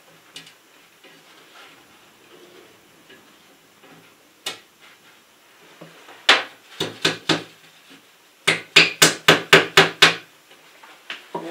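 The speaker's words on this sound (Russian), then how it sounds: "Новый молоточек мелкий." Sharp wooden knocks, a few scattered then a fast run of about eight close strikes, like a small hammer tapping nails, with quiet gaps between.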